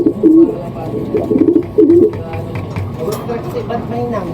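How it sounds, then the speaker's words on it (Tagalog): Pigeons cooing close by in soft repeated bursts, with a low background rumble and some faint murmuring. "Maraming kalapati yan."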